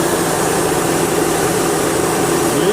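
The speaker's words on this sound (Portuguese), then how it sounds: "já ligou o eletroventilador." The electric radiator cooling fan of a 2000 Honda Civic EX runs with the car stopped. A loud, steady whoosh and hum continue without a break under a low engine rumble, and no one speaks.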